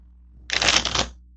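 A deck of tarot cards riffled in one quick shuffle, a close, bright burst of flapping card edges lasting about half a second over a quiet background.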